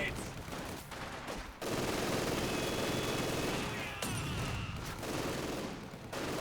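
Sustained rapid bursts of MG42 machine gun fire in Company of Heroes 2, with dense continuous rattling that briefly drops out twice.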